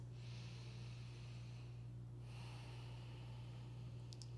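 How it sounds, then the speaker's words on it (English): Slow, deep breathing through the nose during a calm yoga practice for anxiety, two soft airy breaths close to the microphone over a steady low hum. "start this practice by taking a few deep breaths"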